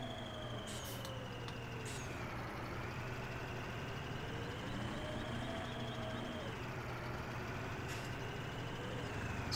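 Steady droning of a rigid-body truck engine in Farming Simulator 17, a continuous low rumble with slowly shifting pitch as the revs rise and fall, loud and unbroken, with no voice over it.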